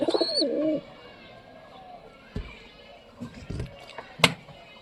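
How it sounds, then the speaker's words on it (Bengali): Pigeons cooing close by in a loft, a few soft rolling coos at the start, then quieter rustles, knocks and a sharp short call, with no one talking. "তো দেখো সব কবুতরগুলো এখন বাইরে আছে।"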